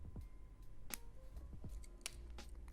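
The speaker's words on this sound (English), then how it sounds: "We're going to cut, leaving a little tuft," Scissors snipping macramé cord to leave a small tuft: a few sharp, close, quiet clicks and snips spaced over a couple of seconds.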